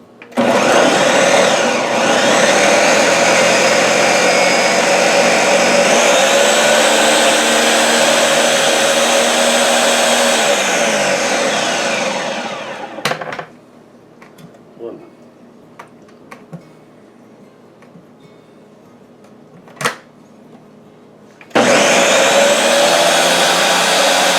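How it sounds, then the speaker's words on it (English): A blender purees jalapeno peppers for hot pepper jelly, a loud, close whirring roar for about thirteen seconds, then quiet clinks and handling, before the motor whirs up again at the end. "Okay, so I'm just going to puree them."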